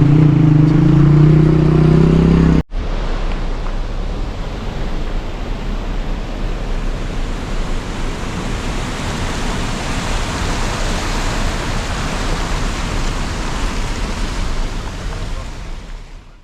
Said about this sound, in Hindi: देखें इस वाटरफॉल का पानी वहाँ से नीचे आ रहा है